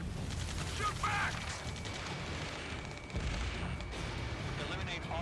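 Gunfire crackles through a military video game firefight, a dense wash of rapid shots and rumbling blasts that runs steadily throughout, with shouted voices partly audible in the mix.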